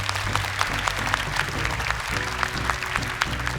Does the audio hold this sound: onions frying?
no